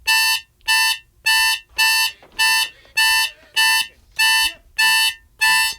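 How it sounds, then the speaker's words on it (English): A harsh, buzzing harmonica chord on draw holes 6 and 7 repeated ten times in steady, evenly spaced pulses, loud and alone, like an alarm clock ringing. "avoid the alarm clock sound on the draw 6 and 7"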